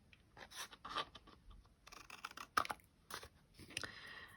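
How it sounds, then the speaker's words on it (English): Scissors snip the corners off a paper tag, giving a few separate crisp cuts and rasping paper rustles spread across several seconds, close and fairly quiet, with no talk. "So for a tag, you would cut off the corners."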